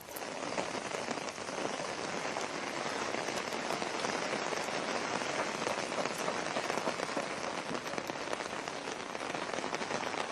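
Heavy storm rain falls steadily on a surface nearby, a dense, even hiss of countless drops that holds at a constant level with no pauses and no voices.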